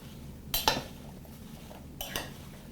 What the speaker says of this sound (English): And I'm going to give it a quick stir.